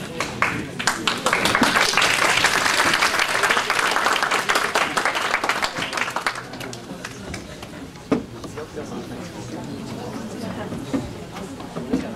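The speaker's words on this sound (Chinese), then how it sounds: "同学鼓掌" Students applaud a guest lecturer at the end of a school talk, with loud, dense clapping for about six seconds before it thins into scattered claps and murmuring chatter.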